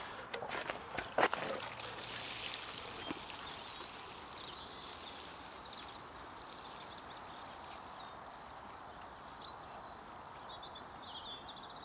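Water trickles and splashes onto freshly sown parsnip seed rows in an outdoor allotment plot, a soft continuous outdoor hiss with a few brief clatters near the start.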